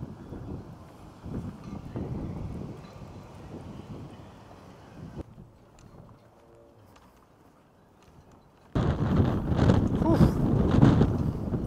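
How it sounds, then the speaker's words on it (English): Strong gusting wind at a harbour buffets the microphone in heavy low rumbling bursts. It eases for a few seconds, then slams back in loud and close. "Oof. Fresh breeze."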